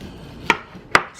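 A knife cuts through thick, fatty bacon into chunks, striking the cutting board with two crisp, close chops about half a second apart over a quiet background.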